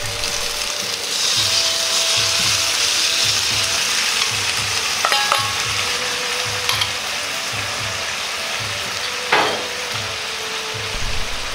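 Salmon fillets pan-frying in a frying pan, a continuous moderate sizzle with a rhythmic low scraping pulse and a few utensil clicks, no speech.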